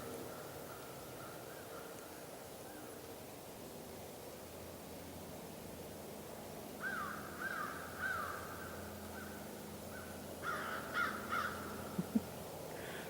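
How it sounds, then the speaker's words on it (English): Distant crows caw in short bursts of a few calls each, over a steady wash of outdoor noise like traffic or rushing water. "I'm surrounded by crows again."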